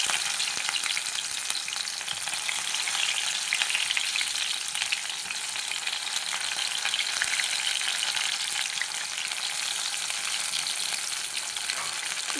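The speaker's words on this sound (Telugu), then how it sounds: "ఫస్ట్ పచ్చిమిర్చి, తర్వాత ఆనియన్స్ వేసుకోవాలి." Green chillies and onions frying in hot oil in a pan, a steady, dense sizzle that holds at an even loudness throughout with no voices.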